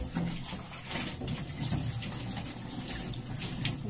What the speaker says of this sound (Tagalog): Hugasan na natin.